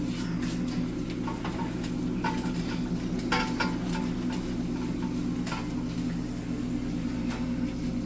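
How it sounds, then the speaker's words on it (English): A spoon scrapes and taps around a pan as flour is stirred into a mushroom pasta mixture, giving light clinks and brushing sounds over a steady low kitchen hum. "Now we're going to stir the flour in because we want to have this incorporated in here"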